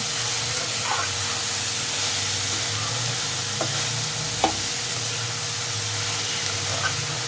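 Coriander leaves and other chutney ingredients frying in a hot pan give a steady, soft sizzle and hiss with a few faint stirring clicks, close by and with no one talking.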